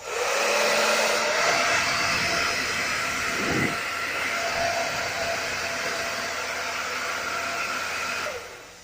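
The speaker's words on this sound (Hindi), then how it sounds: "जो दूसरे पे है तो हाई फाई एयर ड्रायर। तो मैं दूसरे पे करता हूँ, तीसरे पे।" A hair dryer switched to its high setting blows with a loud, steady roar for several seconds, with a brief dip in pitch partway through before it cuts off at the end, with no talking.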